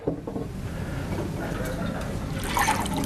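Hot water is poured into a second glass for tea, a soft, continuous trickle and fill beneath a low room hum, growing brighter and splashier toward the end.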